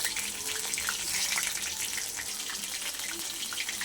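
Water lily stems frying in a pan as they are turned over, giving a steady close sizzle and crackle that holds at an even level throughout.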